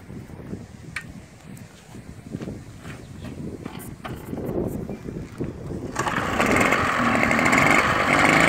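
A Motobécane AV44 moped engine starting up outdoors, sputtering and rough at first and then catching into a louder, steady buzzing idle. Wind noise sits underneath.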